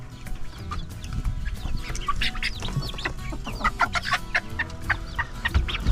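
Pekin bantam chickens and roosters cluck and chatter continuously over a busy, noisy background, with sharp bird calls popping up throughout.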